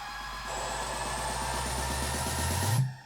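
Rising riser effects sweep upward in an electronic dance track build-up, a pulsing rhythmic bed beneath a bright tone climbing steadily for about three seconds before cutting off abruptly.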